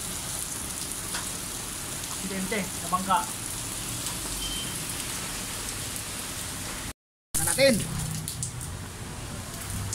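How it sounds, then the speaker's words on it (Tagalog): Steady rain falls and patters across the whole stretch, a broad hiss with scattered louder drops, while people talk in Filipino over it near the start and after a brief gap. "Yan na ang ulan."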